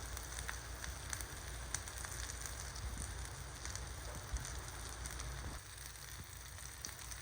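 Eggplant roasting directly over an open fire gives off a faint, steady crackle and sizzle, with scattered soft pops throughout and no voices.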